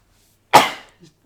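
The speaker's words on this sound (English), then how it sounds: "Oh my god, I sneeze hella hard" A single sharp, explosive burst like a sneeze, loud and close, trailing off quickly, followed by two faint soft sounds.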